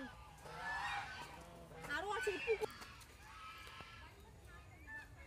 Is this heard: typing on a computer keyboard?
no